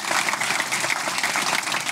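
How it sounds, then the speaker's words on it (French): Audience applause at a business product show, dense and continuous clapping from a sizable crowd, moderately loud and steady throughout with no talk over it. "On peut l'applaudir encore une fois"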